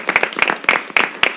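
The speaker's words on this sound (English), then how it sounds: "I think that gets an applause." At a school district board meeting, a small group claps in short uneven bursts of distinct hand claps, close and fairly loud, with no talking over it.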